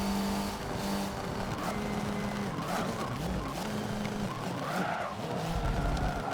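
A touring race car in Forza Motorsport 7 brakes hard with the handbrake pulled, tires squealing in repeated skids over engine drone, with loud wavering screeches toward the end.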